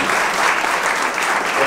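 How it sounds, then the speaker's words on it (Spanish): Audience applause at an award ceremony, a brief, loud, dense burst of many clapping hands filling the room, with no voices standing out. "Un aplauso para todos."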